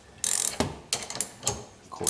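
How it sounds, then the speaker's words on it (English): Quick bursts of ratchet clicking from a hand ratchet tightening a trailer hitch anti-rattle clamp, close up, coming in several short runs with brief pauses between them and no talking. "I'm going to use a ratchet."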